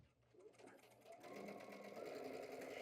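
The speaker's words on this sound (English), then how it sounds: "And I'm stitching 1/4 of an inch across the top." A sewing machine runs steadily while stay stitching along the top edge of a tank top's fabric, its whirring motor grows denser and louder after a brief start.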